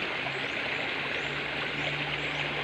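Clear mountain spring water rushes steadily and close, a continuous bright wash with a low steady hum underneath and no voices.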